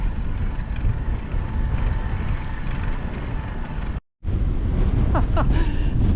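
Strong wind buffets and roars across the microphone while cycling and towing a bicycle caravan in stormy weather, a dense continuous rushing noise that cuts out briefly, then resumes with faint squeaks.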